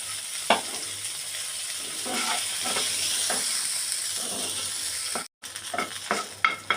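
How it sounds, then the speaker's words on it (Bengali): Onion, garlic and green chillies sizzle steadily in a pan close by, with repeated stirring scrapes and taps and a brief drop to silence near the end, and no voices. "এখন এটাকে খুব ভালো করে একটু ভেজে নেব।"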